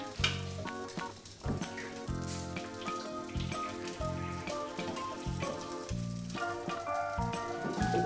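Salted snapper fish frying in a pan of hot oil, giving a loud, steady, close sizzle that runs unbroken throughout, with music playing in the background and no talking.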